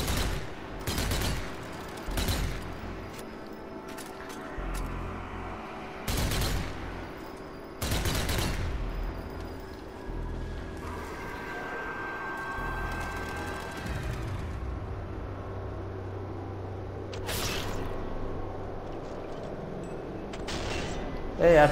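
Gunfire rings out in the Zombie Army 4 video game: scattered loud gunshots and bursts over a droning background hum, with someone talking between and over the shots.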